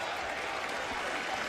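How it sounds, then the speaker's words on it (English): Steady, dense applause from a basketball crowd fills the gym for a player at a college game, holding an even level throughout without breaks. "Tilke gets a nice round of applause."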